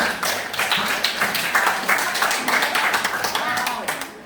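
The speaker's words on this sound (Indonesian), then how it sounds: "beri tepuk tangan untuk kita semua" A group claps in rapid, irregular bursts of applause over several seconds, close and fairly lively.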